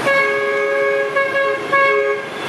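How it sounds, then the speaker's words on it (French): A bus horn blares in busy Hanoi street traffic, a loud sustained honk sounding in three close blasts over a steady roar of surrounding traffic, with no talk. "le bus il sent qu'on va traverser, alors il nous klaxonne déjà dessus"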